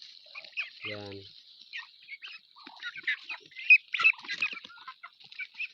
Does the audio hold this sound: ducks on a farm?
yes